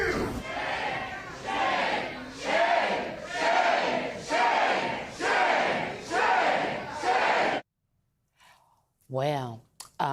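Town hall crowd chanting in a loud, rhythmic unison, about seven swelling shouts in a steady cadence, then a sudden cut to near silence with a brief faint voice.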